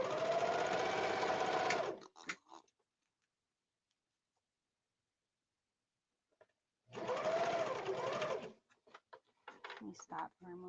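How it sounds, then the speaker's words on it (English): A serger runs over a lining and an orange outer fabric in two short bursts of rapid mechanical whirring. Quiet gaps sit between the bursts, and there is light handling noise and brief talk at the end. "I'm serging, making sure I'm catching the lining and the outer orange fabric."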